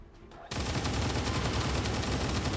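Rapid-fire gunshots from a squad weapon in XCOM 2, a dense unbroken burst of loud cracks that bursts in abruptly after a short quiet stretch and keeps going to the end.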